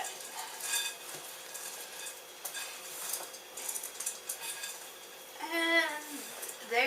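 Chocolate chips and nuts being stirred into cookie dough, giving soft, faint scraping and clinking of a utensil against a bowl, with a person speaking briefly near the end.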